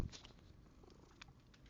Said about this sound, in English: Very affectionate cat.